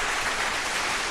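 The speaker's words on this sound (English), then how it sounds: "Let's give her a round of applause." Studio audience on a talk show applauding, a dense, steady wash of clapping that stays loud and even for its full length with no voices over it.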